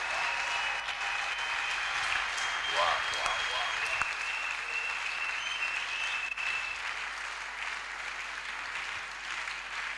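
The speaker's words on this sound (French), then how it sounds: "Give the Lord a mighty hand of praise." A church congregation gives a long, loud burst of applause that fills the space, steady throughout with a few cheering voices mixed into the clapping.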